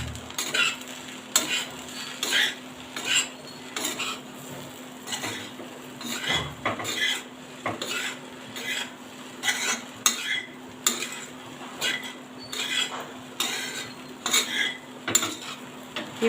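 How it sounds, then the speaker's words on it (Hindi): A spoon stirs bread poha with salt in a pan, giving repeated scraping clinks of metal on the pan in an uneven rhythm over a faint steady hum, heard close and without talk. "अब मैं इसको मिक्स करूँगी।"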